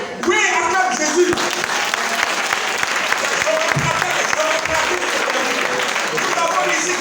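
A church congregation claps and cheers in praise of Jesus, sustained loud applause filling the room throughout, with a voice rising over it at the start.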